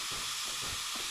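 Air brake hose hissing as it is hooked up on a train in the Derail Valley game, a short steady close rush of escaping air.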